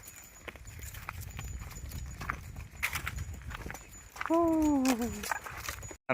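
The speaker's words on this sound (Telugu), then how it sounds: "మన ఆవులు ఇంకా అటు పోతున్నాయి" Cows walking outdoors in harsh summer heat, hooves clopping in an uneven rhythm over steady outdoor noise, with a brief loud tonal call near the end.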